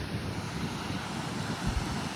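Wind blows steadily across Navgaon beach at Alibag on the Konkan coast, giving a continuous rushing, buffeting roar with no distinct gusts and no one speaking.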